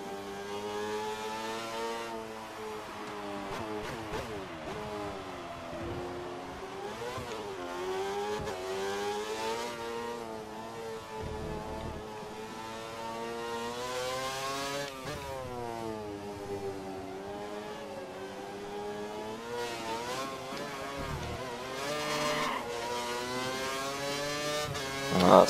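A Formula 1 racing car engine in the F1 2013 video game, screaming and revving steadily, pitch rising through gear changes and dipping under braking across a long lap, with no talking.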